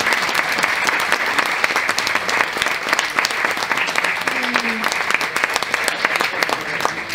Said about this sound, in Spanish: Y por los aplausos inmerecidos